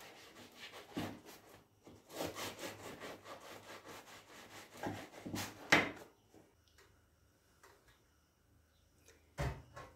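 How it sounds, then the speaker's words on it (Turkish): Bread being cut into thin slices with a knife in a home kitchen, with repeated short rasping sawing strokes in bursts, close and fairly quiet, with a few clatters between them. "Artık ekmeklerimi incecik doğrayayım."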